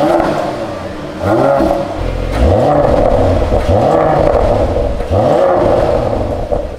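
A Mercedes-AMG GLE 53 with an inline-six petrol engine runs close by, a deep steady rumble that rises and falls in repeated swells as it is revved, loud and with no voices.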